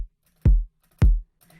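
Two punchy EQ'd kick drum hits from a Bitwig Studio sample, each with a sharp poppy transient and a short booming low tail, spaced about half a second apart, dry and close with nothing else playing.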